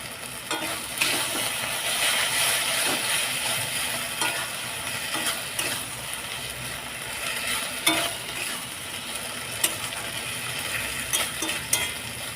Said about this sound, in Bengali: লো টু মিডিয়াম ফ্লেমে দু মিনিট ফুটিয়ে নিয়েছি তেল ছেড়ে দিয়েছে ভেজে রাখা সাদা মাছ দিয়ে দিলাম